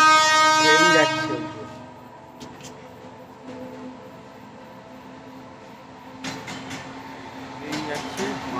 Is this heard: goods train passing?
yes